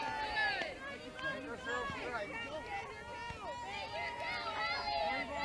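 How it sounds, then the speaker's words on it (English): Girls' softball players cheering from the dugout during a Moses Lake vs. Eastmont game, a faint, rhythmic chorus of chanting voices heard at a distance with nearby chatter mixed in. "You can hear the girls cheering."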